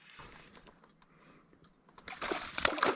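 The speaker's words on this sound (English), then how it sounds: "By his tail splashes, he seemed little." A small smallmouth bass thrashes its tail at the surface of the water, producing a short flurry of bright, choppy splashes that closes the clip after a stretch of quiet, scattered sounds.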